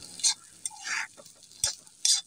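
Dried fish (shutki) curry being stirred in a pan, with a few short scraping strokes and a light sizzle spaced across the moment, close and fairly quiet.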